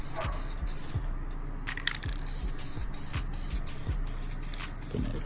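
Primer being spray-painted onto a Chevy valve cover, part of a 5.3 LS swap into a box Chevy Caprice: a steady hiss with short bursts, fairly close and continuous throughout.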